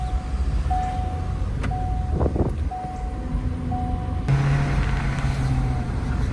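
A used car is driven on a test drive. The steady low rumble of the engine and road noise fills the cabin, with faint tonal whines and a brief rise in engine pitch partway through, and no talking.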